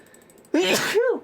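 A single sharp sneeze bursts out close and loud, a quick breathy intake snapping into a noisy explosive release that trails off into a brief voiced tail.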